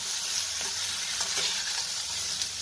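Potato and ripe banana being stirred in a pan for a vegetarian curry, a steady close sizzle with a few soft scraping strokes, no talking.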